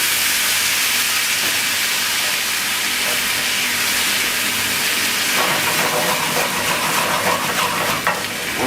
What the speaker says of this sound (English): Now we're going to add just some vegetable stock